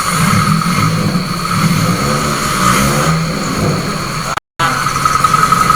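A car engine with its ignition coil wired with reversed polarity runs and revs in a steady loud drone with rising and falling pitch, briefly cut off near the end.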